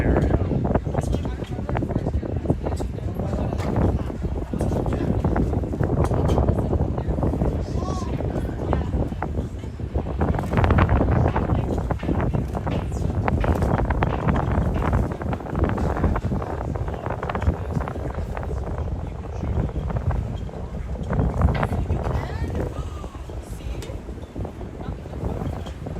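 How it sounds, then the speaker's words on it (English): Wind blowing steadily across an open deck during a Discovery Boat Cruise in Kingston, Ontario, with continuous rushing buffeting on the microphone under frequent talking. "feel the wind."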